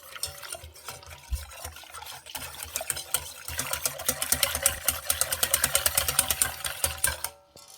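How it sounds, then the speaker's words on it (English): A whisk stirs dissolving gelatine in a bowl for lemon marshmallow slice, a close, quick rhythmic tapping and scraping that builds steadily louder and then stops abruptly at the end. "Dissolve that, whisk it around."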